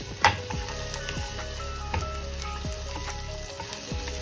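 Garlic stir-frying in butter for Schezwan noodles, a steady close sizzle with faint scraping taps of stirring at irregular intervals.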